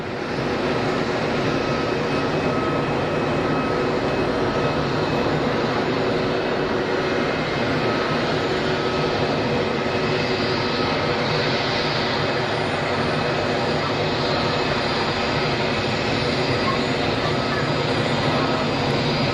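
An Airbus A320neo at Geneva Airport sends a broad, steady jet engine roar across the airfield, holding constant and loud throughout with no pauses.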